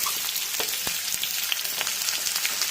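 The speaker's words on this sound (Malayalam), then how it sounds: "എണ്ണ ചൂടായപ്പോൾ ആ സവാള ഇട്ട് വഴറ്റി അതിലേക്ക് പച്ചമുളക് ഇട്ട് വഴറ്റി കൊടുത്തു" Sliced onion and green chilies sauté in hot oil for a Kerala-style okra dish, a close, crackling sizzle with scattered pops and spits that runs steadily throughout.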